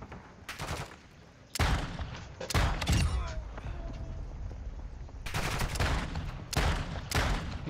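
Bursts of rapid gunfire crackle in a chaotic firefight, with several loud volleys separated by brief lulls and a lingering rumble between them.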